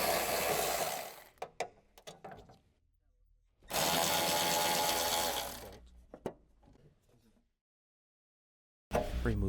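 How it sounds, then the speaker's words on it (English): A small electric impact wrench with a short 8mm socket zips out liner bolts on a 2013 Jeep Wrangler JK, giving two loud, sustained buzzing runs broken by sharp clicks and clatter, then silence and a final burst. "Use a small 8mm short socket with a small electric impact wrench to remove the liner bolts."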